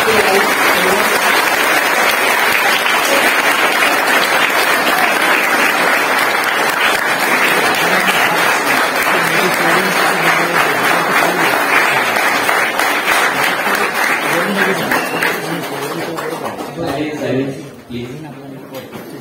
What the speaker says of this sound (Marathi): विद्यार्थी मित्र हो, टाळ्या वाजवायला कंजूसी करू नका